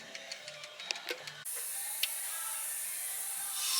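A can of brake cleaner sprays in a loud, continuous hiss onto the axle and kingpin area of a 1957 GMC truck, following a few short knocks and clicks, with no talking.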